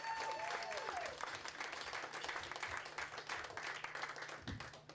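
A late-night Friday comedy club crowd applauds to welcome a comedian to the stage, steady dense clapping throughout, with a brief whistle-like tone near the start and a faint hum underneath.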